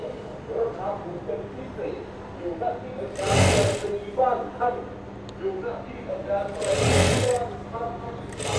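Electric sewing machine stitching a Thai sabai shawl, running in steady bursts with a rapid mechanical whir, two louder stretches, close by while someone talks over it.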